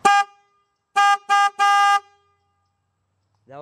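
A car horn fitted to a mountain bike honks loudly and close: one short blast, then three more in quick succession, the last held for about a second, with a brief voice entering at the very end.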